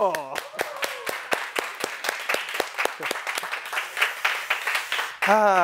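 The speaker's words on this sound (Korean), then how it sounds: "박수!" Applause from an audience breaks out in a Hollywood actor's talk, a run of sharp claps spread over several seconds, with a voice speaking at the start and again at the very end.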